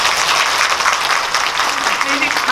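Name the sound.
audience applause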